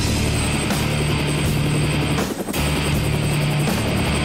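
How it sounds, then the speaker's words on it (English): A helicopter's thudding rotor and engine drone loudly and continuously, close and overhead, with a brief dip midway. "Danny Way, Colin McKay, and Chris Markovich flying into my house via helicopter"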